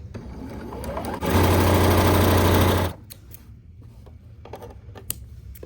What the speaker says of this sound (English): you can chain piece them or just chain piece the one